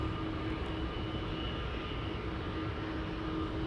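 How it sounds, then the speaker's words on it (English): A KLM Boeing 777-200ER bound for Johannesburg lines up for takeoff, giving a faint, steady distant engine rumble with a low hum running through it and no voices. "the 777-200 to Johannesburg is lining up. KLM flight 591"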